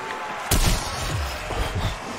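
A shotgun in Call of Duty Cold War Zombies fires a single sharp, heavy blast, and the boom trails off as booming echoes over constant background noise.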